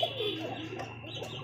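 Pigeons in a pair coo softly with low, throaty murmurs and faint chirps, quiet and close against a steady background hum.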